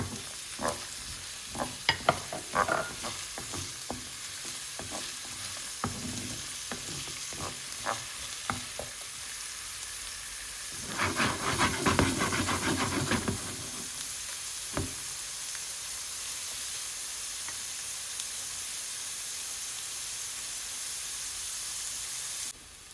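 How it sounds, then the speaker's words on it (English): Carrots and onion cooking in a pan for cottage pie, a steady sizzle running throughout with clusters of sharp scraping stirs early on and a louder burst of tossing midway, then quieter frying. "I'm going to add in my carrots. I'm going to cook these up until they're just about cooked"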